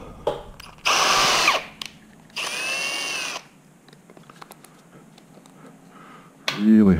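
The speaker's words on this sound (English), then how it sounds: "Really helps to deburr that hole." Deburring the sharp edge of a freshly drilled hole in a bolt with a power tool produces two short whirring bursts, close and loud, with small metallic clicks and handling noises between them.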